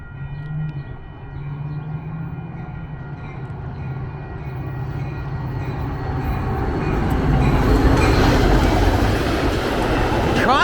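A Metra commuter train passes non-stop through Mt. Prospect, its rumble and rail clatter building steadily from a distance to a loud, close roar by the end.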